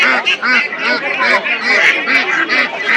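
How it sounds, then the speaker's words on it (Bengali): Chinese ducks at a busy village poultry market honk and call repeatedly in loud, nasal bursts, a close, continuous chorus with overlapping calls. "চমৎকার সাইজের চীনা হাঁস কিনতে নিয়ে আসে"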